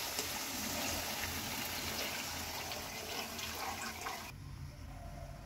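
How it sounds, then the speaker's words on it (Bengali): Water pours steadily into a pan of frying tilapia curry masala with Kashmiri chili powder and salt, a continuous close rushing and sizzling that runs loud for several seconds and then drops away abruptly near the end. "আমি জল দিয়ে দেবো পরিমাণ মতো।"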